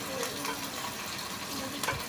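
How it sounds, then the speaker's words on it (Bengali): Potatoes frying in oil in a wok with onions, giving a steady soft sizzle and stirring noise throughout, fairly quiet, with a brief louder clatter near the end. "আর এখানে আমি পেঁয়াজ ভাজা হয়ে গেলে হালকা আমি আলু দিয়ে দিব।"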